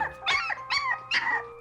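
A sick dog with a splinter in her paw lets out three drawn-out whining howls in close succession, near and clear against a quiet background.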